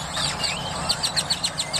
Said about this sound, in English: Can y'all hear those birds?